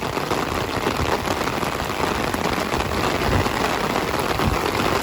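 Heavy rain from Tropical Storm Elsa pours down in Estero, Florida, a dense, steady roar of drops hitting surfaces close by, with no voices.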